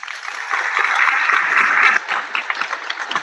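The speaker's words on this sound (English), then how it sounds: "give him a round of applause." Audience applause for a speaker at a Job Corps apprenticeship program event, a burst of clapping that swells then thins into scattered claps.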